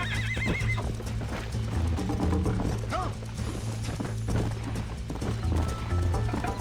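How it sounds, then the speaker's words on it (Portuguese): In the Western video game Red Dead Redemption, a horse whinnies and neighs while hooves clip-clop steadily beneath, continuous and close, with faint mechanical clicks in the background. "Opa, cavalinho."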